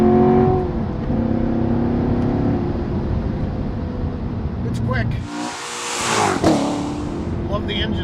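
A 2014 Chevrolet Corvette Stingray Z51's 460-horsepower V8 roars steadily close by, its rumble rising and swelling midway as the car pulls hard through the gears.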